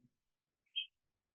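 Recorded bird song played back from an audio-annotated woodland image, a single short, high chirp standing alone in near silence after a faint low blip.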